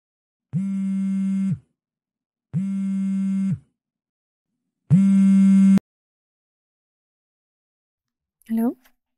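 A phone rings in three long buzzing tones separated by short pauses, then a brief chirp follows after a silence.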